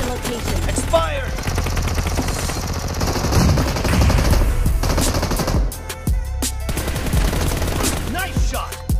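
PUBG Mobile gunfire: dense bursts of rapid automatic fire and single shots crackle almost nonstop, loud and close, with a short lull before more volleys and voices mixed in.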